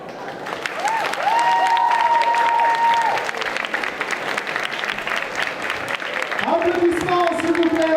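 Audience applause at a Japan Party cosplay contest, sustained clapping from a crowd under a host's voice, with tonal music swelling behind it.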